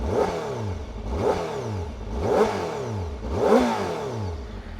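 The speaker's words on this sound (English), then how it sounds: "Buttery smooth inline 4 sound." Honda Fireblade CBR1000RR-R SP 999cc inline-four motorcycle engine revs up four times in a steady rhythm, each blip rising smoothly and falling back, close and fairly loud with no talking.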